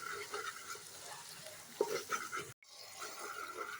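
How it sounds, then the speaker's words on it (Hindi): Keema masala with tomatoes fries in a pan with a soft, steady sizzle and occasional stirring scrapes, faint and close, with a brief dropout near the end. "और भून लेंगे टमाटर के साथ भी हम।"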